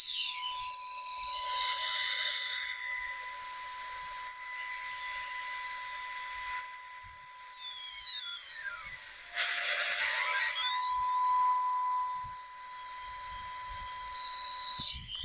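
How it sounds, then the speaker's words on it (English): AM-demodulated tones come through an RTL-SDR receiver tuned in GQRX. Loud, high, steady whistling tones shift and sweep in pitch, with a brief drop in level partway through and faint hiss underneath. "let me change my modulating frequency as well so you can hear the difference in the tone as well"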